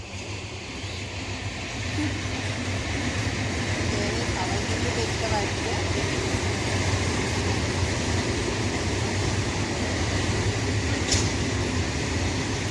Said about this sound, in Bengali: এই যে দেখুন আমাদের পাশ দিয়ে ট্রেন যাচ্ছে